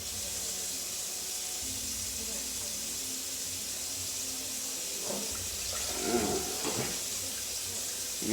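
Tap water runs steadily into a pot being filled for cooking quinoa in a home kitchen, a continuous hissing stream with faint clatter near the end.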